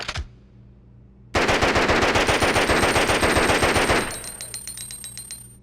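An MP5 submachine gun fires in Resident Evil Outbreak after a single click, unleashing a loud, rapid burst of evenly spaced shots for nearly three seconds, then a few trailing rounds and ringing echoes, with no talk.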